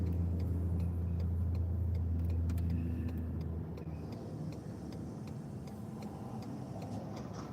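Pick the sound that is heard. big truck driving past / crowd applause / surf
big truck driving past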